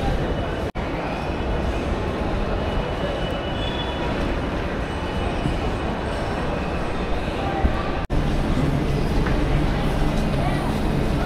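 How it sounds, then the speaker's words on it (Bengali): A Paris Métro train on the maroon Line 4 rumbles steadily through a station, with loud continuous rail noise and faint wheel squeal. It runs for about eleven seconds, broken by two brief dropouts, and voices are faintly present underneath. "আমাদের সেকেন্ড মেট্রো এসে গেছে। আমরা এটাতে উঠব।"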